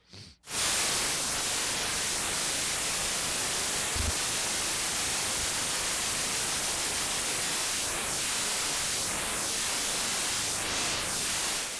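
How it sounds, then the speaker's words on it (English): Steady loud hiss of white noise from a VCV Rack software synthesizer, with a filter notch sweeping through it, rising and falling in arcs that grow wider toward the end. "I'm just going to run white noise into it and notch filter it like this"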